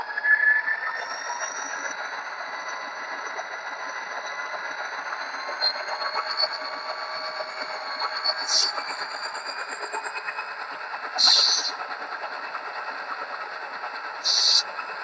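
A Rapido F40PH-2D model diesel locomotive, a limited-edition Canada 150 version, revving its sound-equipped engine with a steady droning whine that rises gradually and is punctuated by a few brief bursts.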